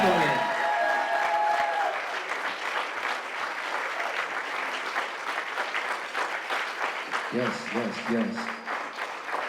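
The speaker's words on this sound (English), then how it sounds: "Another big round of applause, ladies and gentlemen." Audience applause fills a room at a retirement party, a dense, steady wash of clapping that carries on throughout, with an amplified voice speaking over it at the start and again near the end.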